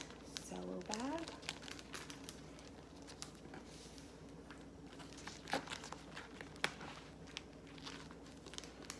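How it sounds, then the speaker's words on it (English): A cash envelope slid into a crinkly cellophane bag, giving close crinkling and rustling bursts with scattered soft taps, while a person speaks quietly throughout. "And then I go ahead and put that in the cello bag."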